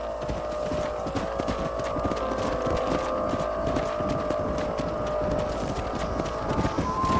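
Horses gallop in the Red Dead Redemption video game, a steady near clip-clop of hooves running over a constant background hum, with no talking.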